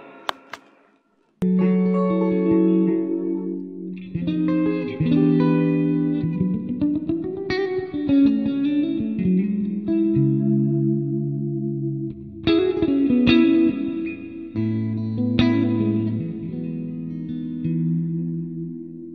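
An electric guitar through a Positive Grid Spark 40 amp on a preset plays alone, warm clean chords and melodic runs with chorus and a touch of reverb, strummed and picked in loose phrases.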